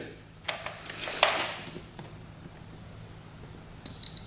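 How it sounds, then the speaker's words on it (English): A short, high electronic beep from a fuse tester checking motorcycle fuses sounds once near the end, loud and clear after a stretch of quiet background noise and faint clicks. "So if we hear a beep, they are good."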